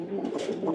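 A pigeon coos softly in a brief, low, throaty murmur heard close by and on its own.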